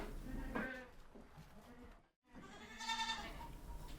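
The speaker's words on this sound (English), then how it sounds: "goat," A farm goat bleats twice, with a wavering cry near the start and another louder one near the end, split by a short silence.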